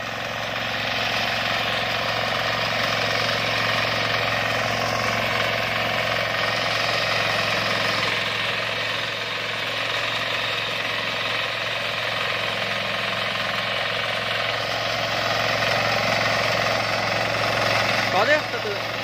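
A Sakura 188 diesel tiller engine runs loud and close with a steady, rough, rattling drone that holds for the whole stretch, and voices are faintly audible beneath it.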